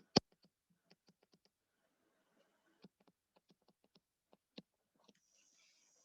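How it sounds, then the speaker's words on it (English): Sparse, soft calculator key taps in short bursts with pauses between them, close by and quiet, with no voices. "Make sure you're typing in your calculator correctly."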